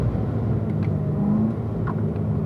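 Steady low rumble of a car engine on a race track as the driver brakes and downshifts to third gear for a corner, with a brief rising whine in the middle; continuous and fairly close, no voices.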